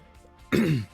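A single short, rough cough or throat-clear from a man during Minecraft Hermitcraft gameplay chat, close and loud, following a quiet moment with no speech.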